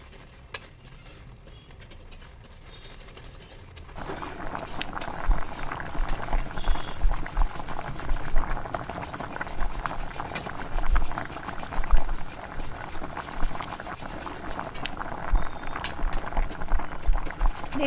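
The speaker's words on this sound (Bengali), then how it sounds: "এরপর এটাকে ততক্ষণ পর্যন্ত নাড়তে হবে যতক্ষণ না খোয়াগুলো পুরো গলে গিয়ে দুধের সাথে মিশে যাচ্ছে।" Milk with khoa simmers at a steady bubbling boil as a spoon stirs it, scraping and clinking against the pan, growing louder after the first few seconds and continuing throughout.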